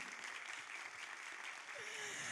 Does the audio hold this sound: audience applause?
yes